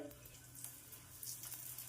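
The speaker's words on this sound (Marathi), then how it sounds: "तेल चांगलं गरम झालंय त्यात कटलेट आपण शालो फ्राय करून घेऊया" Sprouted ragi cutlets shallow frying in a few spoons of hot oil on a flat pan over a gas flame, a soft steady sizzle and crackle, quiet and close, with no talking.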